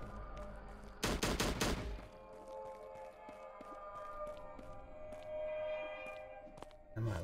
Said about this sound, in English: I'm gonna use my shotgun.